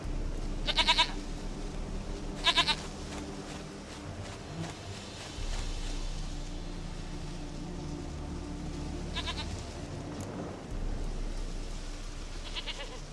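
A goat bleats repeatedly in The Witcher 3. Short, sharp bleats come in spaced bursts over a steady low game ambience, and no one speaks.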